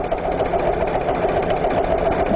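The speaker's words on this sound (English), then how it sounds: "I'm going to stitch along the edge of the scallop, the outside edge of the scallop, and it's just one row of stitching" An embroidery machine stitches a single row along the outer edge of a scalloped design, giving a steady, fast, continuous mechanical whir and needle patter, close and even throughout.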